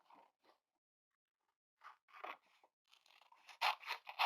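Scissors fussy cutting a paper image for a collage, with a few close, crisp snips and crunches separated by a quiet pause, then quicker cuts at the end.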